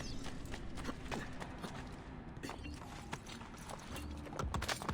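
Rapid rhythmic hoofbeats of a galloping horse in a video game, steady and continuous, with a faint whinny, heard alone without talk.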